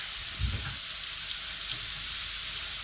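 Curry leaves, fennel seeds and dried red chilies sizzle and crackle in hot oil, a steady close frying hiss with a small pop near the start.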